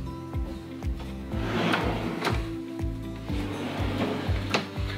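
Stainless steel drawer in a kitchen cabinet sliding open and shut repeatedly, a series of close rolling, scraping strokes with clunks at each stop, steady and fairly loud with no talk.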